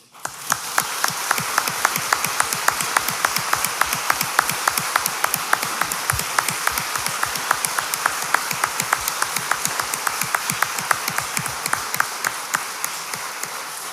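Sustained audience applause at a Supreme Court swearing-in ceremony for new lawyers, with distinct sharp claps standing out in a steady, fairly close wash of clapping that holds for the whole stretch before easing slightly.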